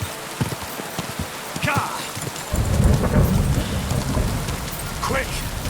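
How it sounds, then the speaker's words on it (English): Rain and rumbling thunder in the medieval video game Kingdom Come: Deliverance 2, a steady dense downpour with a low roll of thunder swelling midway, while someone talks over it. "it's pouring down rain"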